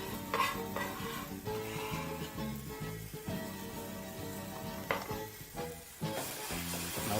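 Empanada filling with fresh coriander being stirred in a pan, soft sizzling with repeated scraping and clattering of a utensil, fairly quiet and without talk.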